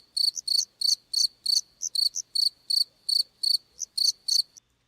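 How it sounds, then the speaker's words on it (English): A cricket chirps in a steady series of short, shrill trills, about a dozen evenly spaced bursts, clear and close against silence. "a cricket"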